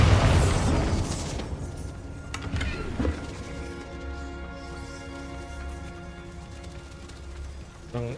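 A Bombarda explosion spell bursts in Hogwarts Legacy, a loud booming blast at the start that decays into a lingering rumble, with a sharp secondary hit around the middle and ringing tonal game audio trailing after.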